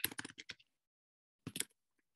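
Computer keyboard keys clatter in two quick bursts of close, crisp taps with a pause between them, and no voices.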